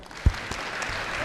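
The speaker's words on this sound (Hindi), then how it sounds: "ताली बजाओ।" An audience at a Hindi poetry recital applauds right after a poem, a short, thin patter of clapping with one sharp thump near the start.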